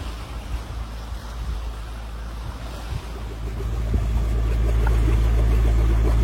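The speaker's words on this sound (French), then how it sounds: "Voilà, petite navigation moteur." A sailboat's diesel engine drones steadily under wind and water noise off Symi island in Greece, its low rumble growing louder and steadier partway through.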